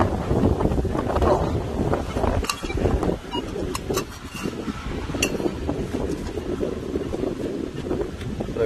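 Heavy wind buffeting a microphone outdoors in the rain during metal detecting, a continuous loud rumbling roar with gusty fluctuations and a few sharp crackles throughout.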